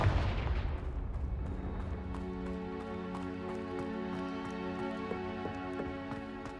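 Spell explosion from Hogwarts Legacy: a loud blast at the start decays into a ringing, metallic tail of sustained tones punctuated by sharp clicks, with no speech over it.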